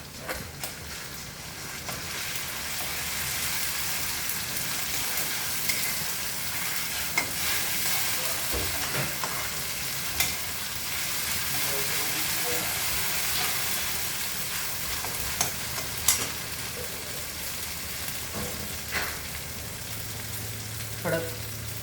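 Garlic, cumin, ginger, sambar masala and green chili paste fry and sizzle in hot oil for idli sambar, a steady crackling hiss with occasional stirring clinks, close and continuous without talk.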